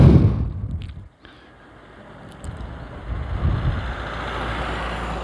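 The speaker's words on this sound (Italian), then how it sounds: "Ecco, arriva la macchina," A single car passes on a quiet lakeside road in the mountains, its engine and tyre noise swelling from the distance and holding as a broad, steady rush by the end.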